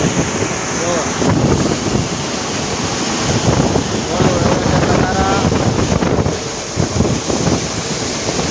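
A threshing machine threshes sorghum on a village farm, giving a loud, steady mechanical roar throughout, mixed with gusty wind buffeting the microphone.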